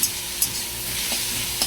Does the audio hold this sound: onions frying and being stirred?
yes